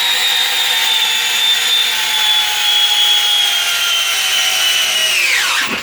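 A Dewalt drill driver drives a screw into wood with no pilot hole. Its motor whines loudly and steadily for several seconds, then winds down sharply as it stops.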